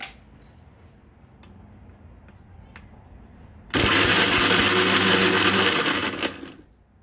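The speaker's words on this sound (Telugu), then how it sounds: "దీన్ని ఇప్పుడు మిక్సీ పట్టుకుందాం." A mixer grinder blends mint leaves and green chilies with salt into a chutney paste, a sudden loud whirring roar that runs steadily for about two and a half seconds before winding down, after quieter kitchen clinks.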